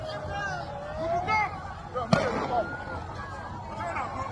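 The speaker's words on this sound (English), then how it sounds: "They're firing us tear gas." Tear gas canisters fired at protesters in Abuja, with one sharp bang cutting through agitated shouting and talking voices, then more crowd noise.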